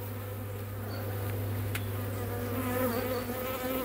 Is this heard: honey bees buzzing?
yes